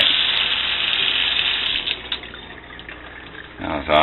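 Tap water gushing steadily over plastic melted in a microwave, a loud continuous broadband rush that dips briefly near the end.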